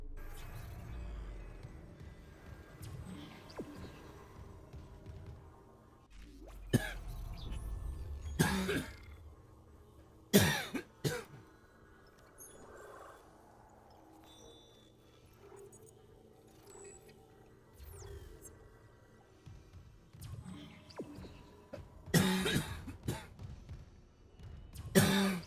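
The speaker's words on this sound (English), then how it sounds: "I apologize for the coughing." Someone coughs and clears their throat in a quiet room, with several sharp close bursts separated by long quieter gaps.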